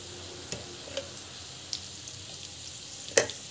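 Chana dal fries in ghee in a pan with a faint, steady sizzle and occasional sharp clicks of a spatula against the metal, quiet and close, with no voices.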